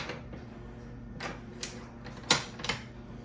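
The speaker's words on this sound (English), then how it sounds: "Now, I'm going to put the bolt back in it, if I can." Bolt being slid into a Remington 700 rifle fitted with a Magpul Hunter stock, close quiet metallic clicks and slides, a few separate ticks ending in a sharper clack, over a low background hum.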